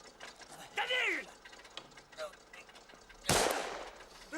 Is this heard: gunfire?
yes